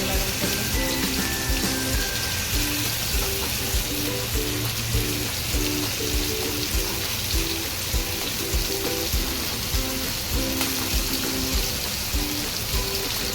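Fresh shrimp frying in a pan on a gas stove, a loud continuous crackling sizzle like steady rain, with faint background music tones underneath throughout.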